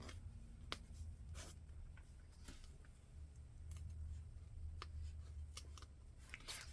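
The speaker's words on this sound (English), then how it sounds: "I'm just trying to cut out what I don't want on here." Scissors cut washi tape in a series of quiet, sharp snips and clicks spaced irregularly over a soft background hum, close and faint.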